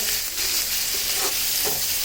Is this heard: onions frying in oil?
yes